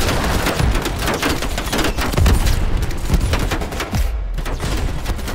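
Dense, continuous gunfire in a Call of Duty Black Ops Cold War campaign firefight: rapid automatic bursts and repeated booms, loud and close for the whole stretch with no break.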